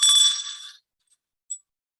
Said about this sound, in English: that's the constant sound of the bell